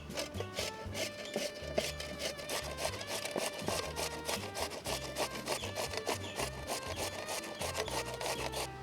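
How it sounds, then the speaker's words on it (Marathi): A whole large cucumber grated by hand into a bowl, a rapid, even rasping scrape repeated in steady strokes, close and alone. "आता मी ही किसून घेणार आहे. तर खाली बाऊल घेतला आहे, बाऊलमध्ये आपण हे किसून घेऊया."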